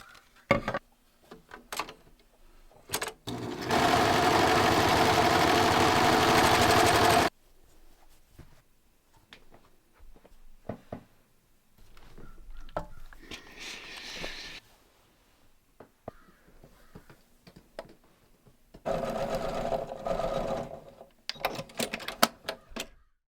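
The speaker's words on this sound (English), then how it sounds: "Now the last thing I'm just going to do is hem the pants." A sewing machine hems crinkle cotton pull-on pants, running in a steady buzzing burst of a few seconds, then a second shorter run after quiet handling noises.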